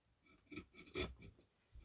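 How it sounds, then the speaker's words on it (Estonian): Handmade wooden fishing lures being cut free with a saw or rasp make a few short, quiet scraping strokes up close, irregular and without speech. "Aga saen need landid siit välja"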